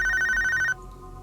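A telephone rings with a rapid warbling electronic trill that cuts off abruptly after under a second, loud and close, leaving only quiet background.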